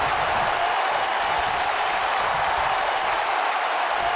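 A capacity crowd at a wrestling grand final roars in a steady, dense wall of cheering and applause, loud and continuous throughout with no individual voices standing out.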